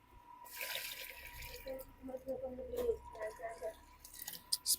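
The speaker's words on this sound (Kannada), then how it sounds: "ಹಂಗೆ ಸ್ವಲ್ಪ ನೀರು ಹಾಕಿಬಿಡೋಣ್ರಿ" Water poured from a container onto a newly planted curry leaf sapling in soil gives faint, close gurgles and splashy drips in a short irregular burst.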